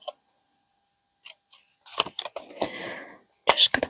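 Scissors snip around a fabric butterfly in short, close bursts of cutting sounds, separated by brief silences.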